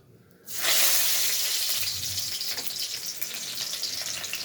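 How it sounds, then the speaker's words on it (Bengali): Chopped onion dropped into hot oil for a prawn paste dish, a sudden loud burst of sizzling that stays strong and steady, crackling up close with nobody talking. "প্রথমে দেব পেঁয়াজ কুচিটা"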